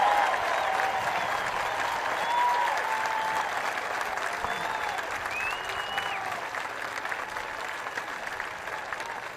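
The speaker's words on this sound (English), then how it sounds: "I want a big round of applause for all our veterans here today" A rally crowd at a presidential campaign event in Sanford, Florida applauds veterans, with steady sustained clapping and scattered cheers throughout, loud and continuous from a large audience.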